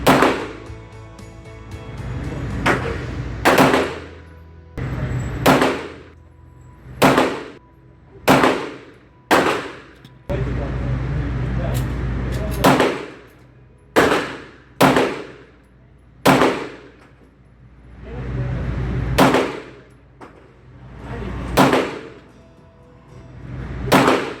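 A Browning Hi Power pistol fires roughly fifteen loud, sharp shots in short groups with pauses between strings, close by and echoing, with brief gaps of quieter handling noise.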